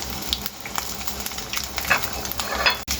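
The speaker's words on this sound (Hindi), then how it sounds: "तो अब ये हमारे हो गए तकरीबन फ्राई" Chicken pieces frying in a pan for a chicken sandwich, a close, dense crackling sizzle with scattered pops and a faint scrape of stirring near the end, with no voice.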